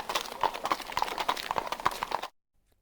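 Horses' hooves clip-clop steadily as riders head out hunting into the hills, a brisk, close run of overlapping hoofbeats that stops abruptly and leaves silence.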